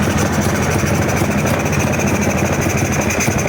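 An old Polaris 400cc two-stroke ATV, abandoned and lacking power, idles with its throttle set as high as it goes, a loud, steady, close rattling drone that never lets up.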